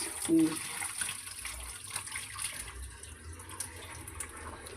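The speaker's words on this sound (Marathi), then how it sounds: "ते आता मिठाचं पाणी सगळं काढून टाकणार आहे मी" Salted soaking water drains off rice in a soft pour and trickle, a faint splash at the start, then a light running-water wash beneath a quiet voice.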